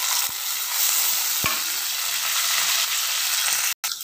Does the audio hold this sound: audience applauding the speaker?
no